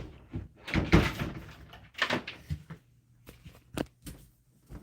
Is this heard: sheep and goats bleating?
no